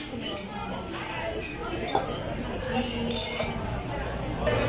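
Glasses clinking in a toast at a family birthday celebration in a restaurant, a few light clinks mixed with clattering dishes and cutlery under lively overlapping conversation.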